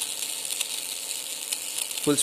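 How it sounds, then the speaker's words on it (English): A small geared DC motor spinning at full speed, heard as a steady high-pitched mechanical whir with faint ratcheting ticks throughout, ending with a short louder knock or thump near the close. "The motor is rotating in full speed."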